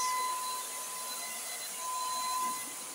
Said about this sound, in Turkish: şu an ikinci motor arkadaşlar